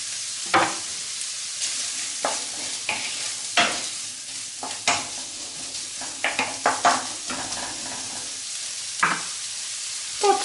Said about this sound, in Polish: Podsmażamy.